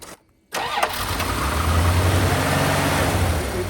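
A Dakota pickup truck engine cranks and catches after a brief silence, then settles into a steady, close mid-pitched run.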